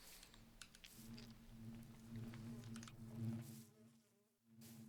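Quiet, steady bee buzzing in the Minecraft modpack All the Mods 9 hums continuously at low volume, with faint clicks and patters scattered over it, dipping briefly near the end.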